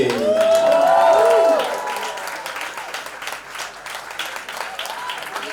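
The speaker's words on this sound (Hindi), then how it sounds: "जोरदार तालियां होनी चाहिए" An audience at a college fest bursts into loud, sustained applause that gradually settles into steadier clapping, with a voice briefly heard over it at the start.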